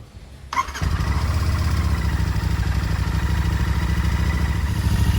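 A Royal Enfield 650 Interceptor motorcycle engine cranks and catches after a brief quiet moment, then settles into a loud, steady running rumble up close.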